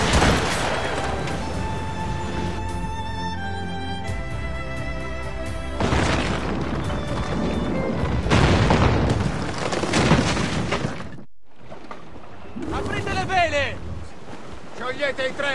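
Ship cannons fire a broadside in Assassin's Creed Rogue, heavy booms and rumbling blasts over rushing wind and sea, with a short lull before more shots, while crew voices shout orders.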